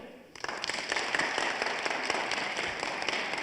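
A church congregation breaks into applause, with claps starting suddenly and then settling into a dense, sustained patter from many hands across the room.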